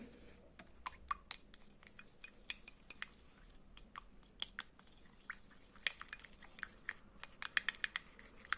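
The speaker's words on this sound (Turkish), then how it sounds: "güzelce karıştıralım" Slime mixed with Desto dish detergent being stirred in a bowl, giving sticky squelching clicks and taps at an irregular pace, close and fairly quiet, with no talking.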